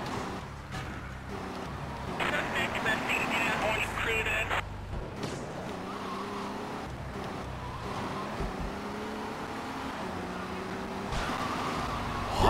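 Car engine in GTA III drones steadily throughout, with brief skidding and shifting engine tones, while someone talks over it most of the time.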